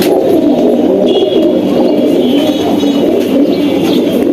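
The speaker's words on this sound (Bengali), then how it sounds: "এখানে আপনার বাইরে যে কবুতর আছে বেশিরভাগই হচ্ছে হাই ফ্লায়ার" High-flyer pigeons coo steadily and close in a continuous murmur of overlapping calls, with faint chirps above a dense, even bed of sound.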